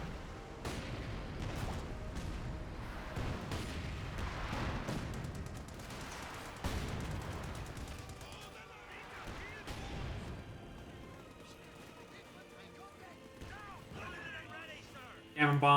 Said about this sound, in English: So we do have white phosphorus mortars as well as smoke mortars coming in.